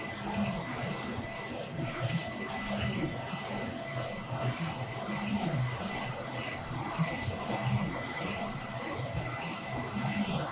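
A Focus Alpha Max 6250 printer runs a varnish print pass, giving a faint, continuous mechanical rubbing hum with regular soft swishes as the carriage sweeps back and forth.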